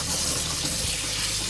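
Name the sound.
tap water running while washing strawberries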